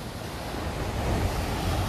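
Ocean waves surge and roar against the shore below a large seaside fort in Kerala, a continuous loud wash of surf swelling slightly toward the end, with wind buffeting the microphone and no talking.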